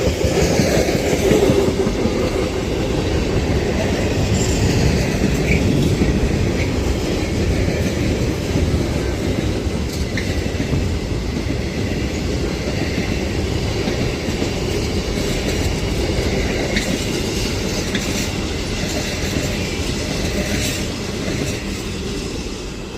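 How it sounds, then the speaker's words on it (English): A Class 66 freight train passes through Leamington Spa with a continuous loud rumble and rhythmic wheel clatter over the rails, sustained close by for the whole stretch. "That freight class 66 passes through Leamington Spa now"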